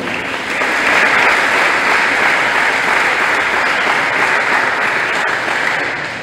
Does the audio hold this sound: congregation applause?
yes